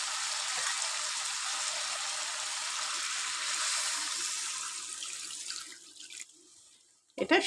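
Water pours steadily from a tap into a pot for Bengali panch phoron chicken, a continuous hissing stream for several seconds that slows and stops, followed by a brief knock near the end.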